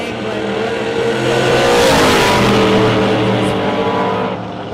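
Walker Mustang drag car roaring at a drag strip shootout, a loud, close engine howl that swells to a peak mid-way and fades slightly, with a trace of announcer talk.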